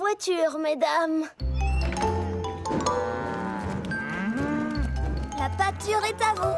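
Loud, drawn-out cow moos overlap with voices and music, several long lowing calls close by amid a busy mix.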